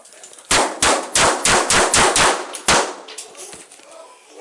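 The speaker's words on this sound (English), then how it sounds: "Shots fired." A burst of about seven rapid gunshots goes off during a tense hostage standoff, then after a short gap one more shot and a fainter one follow. The reports are loud and sharp and each decays quickly.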